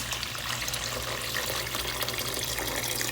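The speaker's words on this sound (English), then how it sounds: "I'm using hot water from my faucet." Hot water runs steadily from a kitchen faucet, a continuous splashing hiss with no pauses.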